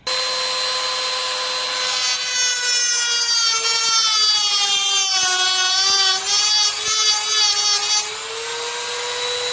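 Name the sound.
Dremel saw teeth wheel cutting aluminum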